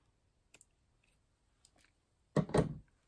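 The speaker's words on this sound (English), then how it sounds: "now we're going to trim this off here and here" Banner craft material trimmed with scissors: a couple of faint, scattered snips, then two louder, closer cuts near the end.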